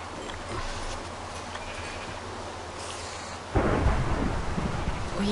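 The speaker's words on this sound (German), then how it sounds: "hier ist ein fürchterliches Gewitter" Thunderstorm in the Minecraft video game: steady rain hiss, then a sudden loud, close thunder crack and rumble that rolls on to the end.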